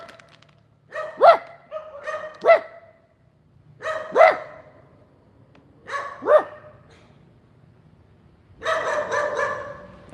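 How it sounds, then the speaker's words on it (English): A dog in a Saigon, Vietnam neighborhood barks again and again, about five loud bursts spread across ten seconds with short pauses between them, ending in a longer, rougher run of barking, fairly close and with no talking over it. "this dog is stupid and just doesn't stop"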